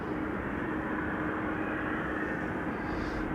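An Embraer 190 airliner arriving at Amsterdam Schiphol, a steady broadband jet roar holding level and fairly loud throughout with no talk.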